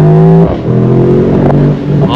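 A 2023 Mercedes-AMG SL 55 with a 9-speed dual-clutch gearbox accelerates hard, engine tone climbing loud and close, dropping sharply at two quick upshifts and rising again each time.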